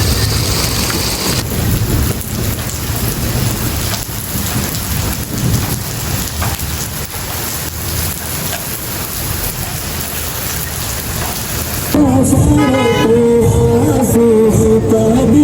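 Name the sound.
heavy rain with thunder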